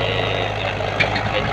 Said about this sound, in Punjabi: ਪਿੱਛੋਂ ਟਰੈਕਟਰ ਜੋ ਲਾਇਆ ਵਾ ਤੇ ਇਹ ਦੇਖ ਲਓ ਟਰਾਲੀ ਅੱਗੇ ਉਹਨਾਂ ਨੇ ਪਾ ਕੇ ਤੇ ਖਿੱਚ ਲਈ ਹੈ